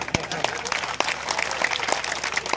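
Scattered clapping from a crowd, uneven and moderately loud, with sharp individual claps standing out over the general patter.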